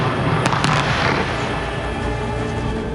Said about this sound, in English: The explosives had detonated,